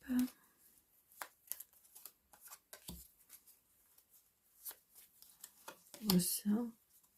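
Tarot cards are handled and shuffled close up, with soft papery riffles and slaps scattered through, a voice speaking in French intermittently over them.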